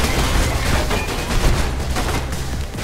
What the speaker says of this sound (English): It's not fair if there's a dude shooting me from behind!